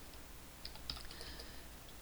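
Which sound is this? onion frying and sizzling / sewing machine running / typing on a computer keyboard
typing on a computer keyboard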